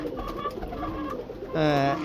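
Low coos from sick pigeons murmur under a voice, followed by a louder, nearer coo near the end.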